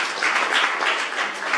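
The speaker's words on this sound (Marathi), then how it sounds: "त्यांच्यासाठी एकदा जोरात टाळ्या हो" Loud, steady applause from a crowd at a school batch reunion, many hands clapping together in a dense, continuous wash with no voices standing out.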